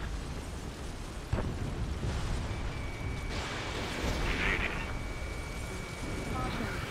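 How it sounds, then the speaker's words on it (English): A missile strikes an enemy jet in the combat flight game Ace Combat 7, heard as a sudden burst followed by a rumbling, roaring explosion over a constant jet-engine drone and game effects. "Missile away. Strider 4 is hit."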